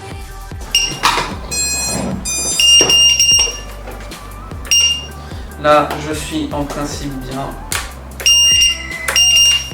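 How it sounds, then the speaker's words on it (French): A FrSky QX7 radio transmitter's buzzer sounding repeated short electronic startup beeps in an irregular pattern, close and fairly loud, mixed with clicks and someone speaking French over it. "Buzzer, le buzzer il marche."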